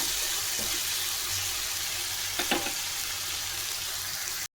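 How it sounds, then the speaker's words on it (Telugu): Chopped tomatoes fry in hot oil in a pan for an Andhra-style spicy chicken curry, giving a steady broadband sizzle with a couple of brief stirring clatters midway, fairly quiet and with no voices. "ఆయిల్లో బాగా వేగాలి టమాటా అనేది. పచ్చివాసన పోయిన వరకు వేయించుకోవాలి."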